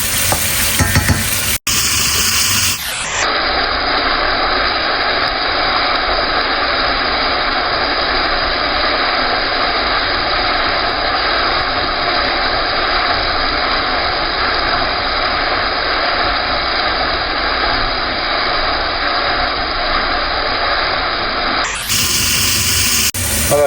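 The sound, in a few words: squid frying over high heat in a pan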